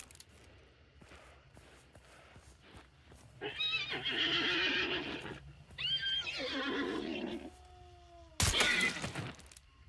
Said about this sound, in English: These include dying horses